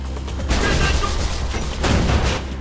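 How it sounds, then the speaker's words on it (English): A flashbang grenade goes off in the video game Mirror's Edge, a harsh broadband blast followed by a second loud burst, both close and dense with noise. "That was a flashbang grenade."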